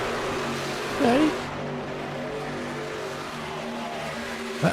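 Racing trucks lapping Charlotte Motor Speedway in iRacing: a steady engine drone with a short, sharp tire squeal about a second in, then the hum carries on to a brief louder burst at the end.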